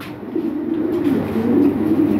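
Pigeons cooing nearby, a low continuous throaty rolling coo that swells and fades over a couple of seconds, with no talk.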